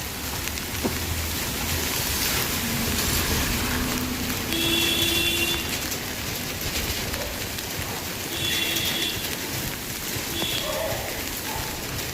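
Steady light rain falls across flooded streets in Ludhiana, a continuous broadband hiss that stays loud and even throughout, with occasional faint tones and distant murmurs beneath it.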